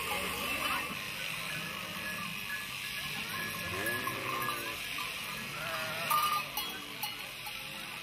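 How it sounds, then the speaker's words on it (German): Sheep bleat in short wavering calls at a shearing day with up to a hundred animals, several bleats rising over a busy background while a voice talks throughout. "An diesem Tag werden hier bis zu 100 Schafe ihrer Wollpracht entledigt"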